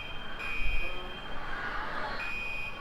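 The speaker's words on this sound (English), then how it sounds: "The alarm went off." A fire alarm sounds inside a gym during a high school basketball game between Chino Hills and Upland, giving a steady high electronic tone that cuts out and resumes over faint crowd noise, with no talking.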